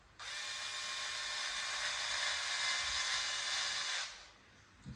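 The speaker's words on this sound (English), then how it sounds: "Start screwing it up a little bit. With this drill." A cordless drill driving a screw into a 1/8 scale RC buggy during a nitro-to-electric conversion whirs steadily for about four seconds with a high whine, then spins down and stops.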